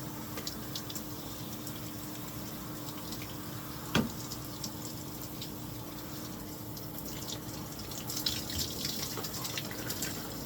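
A shower runs with a steady stream of water, a continuous hiss with a faint tonal hum, a sharp knock partway through and some splashing near the end; no one talks.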